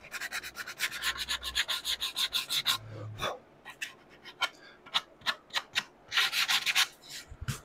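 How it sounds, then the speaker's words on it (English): Light hand sanding breaks the edges of a live edge wooden serving board, with a run of close, rhythmic rubbing strokes, a short pause, then more quick bursts of abrasive scratching. "we'll get a little light sand going here"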